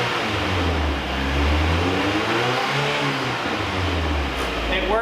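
Mazda Miata with a swapped-in 1.8 engine revving in a workshop, the engine note rising and falling in repeated swells, loud and close, with no one talking over it.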